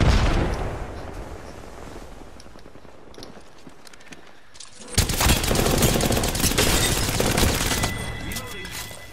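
Rapid bursts of automatic gunfire erupt in the video game Apex Legends, loud and close, with a quieter stretch of scattered shots before a dense, heavy volley takes over.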